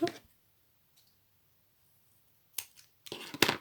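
Scissors cutting a paper ice-cream card, a few short, crisp snips and clicks close by, separated by a long near-silent pause.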